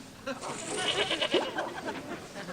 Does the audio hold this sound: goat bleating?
yes